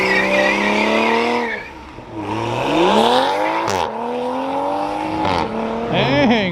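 A car revs hard as it pulls away from a crowded Fourth of July car meet, its engine climbing in several rising sweeps with short lifts between them, loud and close, while people talk over it.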